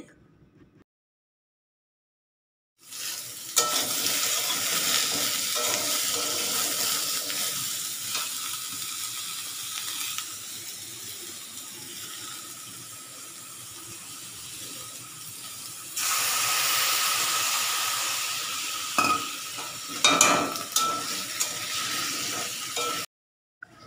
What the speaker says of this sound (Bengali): তরকারিটা বসিয়ে দিয়েছি